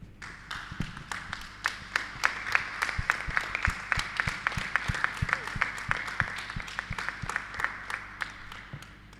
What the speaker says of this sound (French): nous allons ensemble acclamer le Seigneur